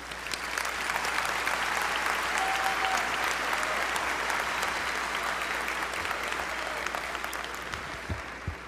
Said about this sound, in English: So please give him a round of applause as he walks into the stage.